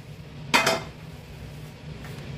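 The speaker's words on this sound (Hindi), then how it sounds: "अब लेते हैं हम एक मिक्सी का जार और इसमें इस जीरे को" Roasted cumin seeds drop into a metal mixer grinder jar in a home kitchen, making one quick clattering rattle against the steel, followed by a faint later clink and quiet room tone.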